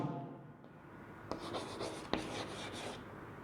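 Writing on a board during a chemistry lesson: a few quick strokes and taps, soft and close, in a quiet room with no voice over them.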